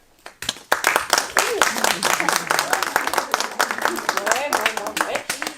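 Couples in a comedy club audience break into clapping after a short quiet moment, sharp close claps building into lively applause with scattered voices and laughter underneath.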